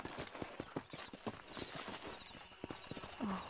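Horse hooves clip-clopping in Red Dead Redemption, a steady run of sharp close hoof strikes with a brief whinny near the end and no talk over them.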